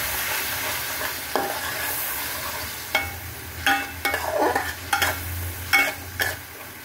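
Spice masala with tomato sauce being stir-fried in a pan, a steady low sizzle with a spoon scraping and stirring in irregular bursts, close and moderately loud, no voices.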